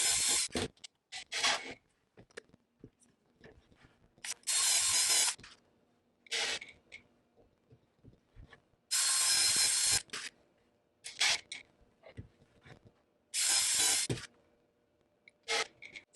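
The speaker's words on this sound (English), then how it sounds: "I'm going to put screws in." Bursts of harsh, hissing grinding as screws are driven into wood, coming and going in several separate runs, with small clicks and handling noises in between, close by and with no talk.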